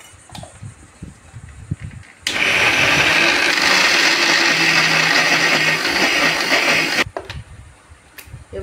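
A mixer grinder whirs loudly and steadily for about five seconds as it grinds ginger, garlic, salt and a little water into a paste, starting and stopping abruptly between quieter kitchen sounds.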